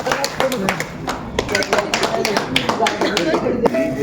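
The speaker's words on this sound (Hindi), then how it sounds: "भाई थोड़ा ताली बजा दो भाई" An audience at a private school association gathering claps in scattered, uneven bursts, with people talking over the irregular sharp claps.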